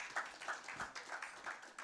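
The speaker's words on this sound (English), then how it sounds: "Tupige makofi wa kiketi." Faint, evenly spaced claps ring out at a live draw event for the 82 Ultimate Cup Edition 3, a quick rhythmic run of hand-claps lasting under two seconds.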